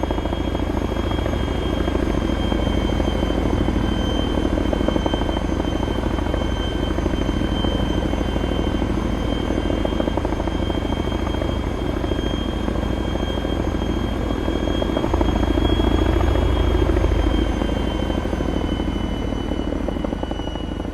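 Chinook twin-rotor helicopter in flight during a night assault in the video game Arma 3, a loud, constant rotor thrum and turbine whine that holds steady throughout with no talking.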